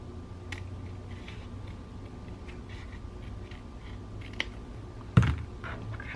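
Scissors cut a thin sliver of paper along a fold while making a tiny matchbox journal. The result is faint, quiet snips and ticks against a low background hum, ending in one slightly louder snip near the end.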